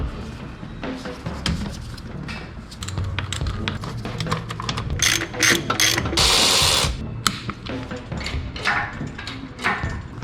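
A wrench ratchets in rapid clicking bursts as bolts are torque checked, dense close clatter building to a loud harsh burst midway, then more scattered clicks.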